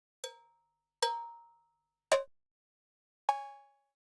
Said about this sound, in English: Synthesize the cowbell.